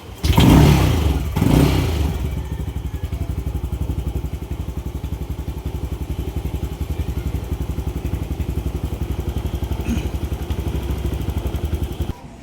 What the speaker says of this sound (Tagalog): papaandarin ko itong motor sa huling pagkakataon